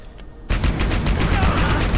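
Turret gunfire in the video game Abiotic Factor: a sudden loud burst of rapid automatic fire starts abruptly and continues as a dense, unbroken rattle to the end.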